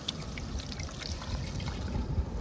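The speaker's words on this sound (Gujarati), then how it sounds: "હવે આપણે એમાં જરૂરિયાત પ્રમાણે પાણી રેડી દેવું" Water poured into a pan of vegetables cooking outdoors near a beach, a steady trickling splash close by over a low rumbling background.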